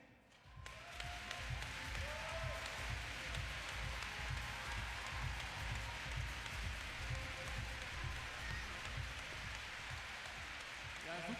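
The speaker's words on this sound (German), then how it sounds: "Sie haben alle so eine Klatschkappe auf ihrem Sitz vorgefunden, und ich würde mal sagen, können wir die mal kurz testen?" A large arena audience at a gymnastics World Cup in Cottbus tests clapper caps, producing a dense, sustained wash of clapping that fills the hall steadily for about eleven seconds after a brief quiet start.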